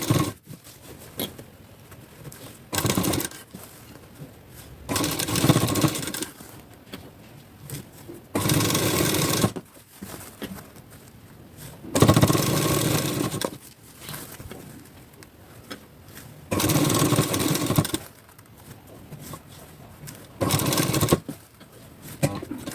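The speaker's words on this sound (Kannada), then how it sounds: "ಸ್ಟಿಚ್ ಹಾಕೊಳ್ಳೋಣ" A sewing machine stitches piping on a blouse in repeated bursts of fast mechanical whirring, each lasting a second or two and separated by quiet pauses, close and fairly loud.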